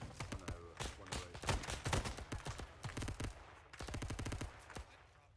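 Rapid automatic gunfire from Arma 3 (S.O.G. Prairie Fire), with dense bursts of overlapping shots, brief pauses between them, and one more long burst near the end.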